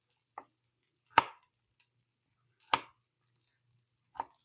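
Knife chopping carrots into thin sticks on a board, three sharp separate cuts at an unhurried pace with a softer tap before them, close and clear against a quiet kitchen.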